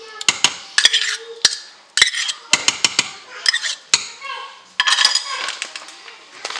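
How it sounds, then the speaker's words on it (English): Frozen vegetables tipped into a pan for a freezer meal, heard as a close series of sharp clatters and hard ticks against metal, with cutlery scraping and clinking in irregular bursts. "now we're gonna add the frozen vegetables"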